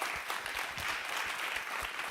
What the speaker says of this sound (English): I want to please give her a round of applause again